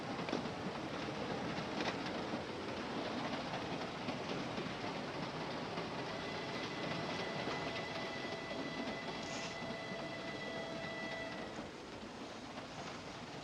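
Continuous rumble and rattle of a passenger train running on rails, with steady clickety-clack and faint squealing tones, close and unbroken with no talk.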